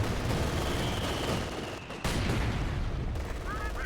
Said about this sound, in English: Double mortar.